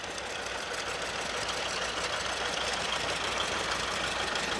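A small restored antique tractor engine running in a fall fair parade, a steady, noisy chugging that stays even and close throughout with no talk.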